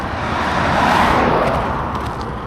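A large heavy vehicle rolls past close by on a road, a steady loud engine rumble and tyre roar that swells and then slowly fades.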